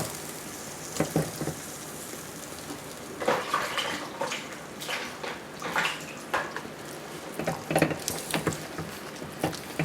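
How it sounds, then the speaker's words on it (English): While banku dough is being made, hands dip into a bowl of cold water, giving soft, irregular splashes and patters that come and go nearby at low volume. "I have some cold water here that I'm dipping my hands in."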